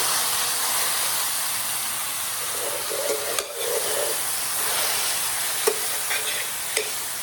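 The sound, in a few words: ground beef and chopped onion sizzling and stirred in skillet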